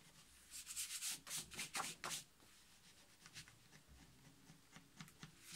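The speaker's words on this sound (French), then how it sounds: "Je vais gommer tout de suite hein, mes morceaux de crayon." A pencil eraser rubs back and forth over paper while making a one-handed album, giving a run of quick scratchy strokes up close, loud at first and then lighter and sparser.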